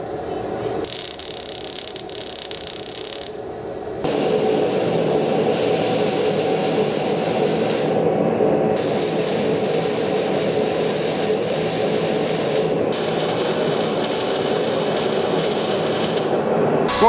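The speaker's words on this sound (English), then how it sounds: "it's time to tack some steel together to make a fillet weld and try and actually join some pieces of steel" A MIG welder tacks steel pieces together for a fillet weld, giving a loud, steady crackling hiss that runs almost the whole time, with brief breaks between bursts and no voices.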